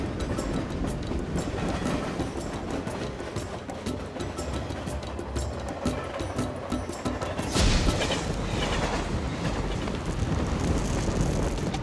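A train accelerates along the track near Narvik, with steady rolling rumble and rhythmic clickety-clack of the rails under loud wind noise, close and continuous throughout.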